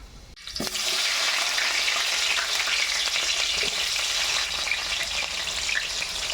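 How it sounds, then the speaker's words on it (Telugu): Chopped red onion pieces hit hot oil in a pan, already seasoned with peppercorns, for pappu pongal. A brief quiet moment is followed by a sudden loud burst of sizzling that holds strong and steady to the end, with no talking. "తరిగి పెట్టుకున్న ఎర్రగడ్డ ముక్కలు వేస్తున్నా"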